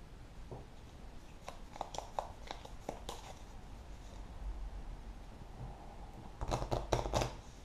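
Soft riffling and shuffling of a deck of playing cards for the Pathfinder card game, a few scattered snaps and then a quick burst of shuffling near the end, heard over steady background hiss.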